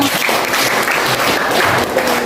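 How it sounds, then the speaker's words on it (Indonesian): Classroom applause for a student discussion group after their presentation: steady, dense clapping from a small group filling the whole moment, fairly loud and close. "tepuk tangan untuk kelompok 2"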